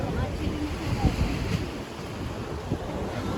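Sea waves wash in at Gomti Ghat in Dwarka, forming a constant rushing surf mixed with heavy wind buffeting against the microphone, fairly loud and unbroken throughout.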